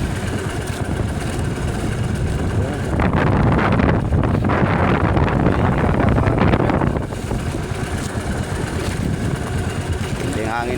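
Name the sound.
strong wind at sea on a fishing boat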